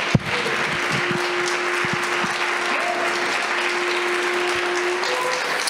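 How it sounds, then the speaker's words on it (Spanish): A church congregation claps and applauds together, a dense, steady wash of clapping that carries evenly from start to finish with a faint sustained tone underneath. "Cuando da un aplauso al Eterno."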